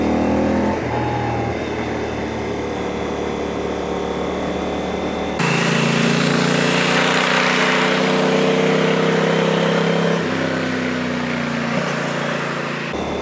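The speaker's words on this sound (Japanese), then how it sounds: "今エンジンの回転数は5000回転弱といったあたりですが" A Honda Hawk 11 motorcycle engine, just downshifted to second gear on a mountain pass, revs up toward about 5000 rpm: a loud, close, continuous engine drone whose pitch climbs, with wind rush throughout.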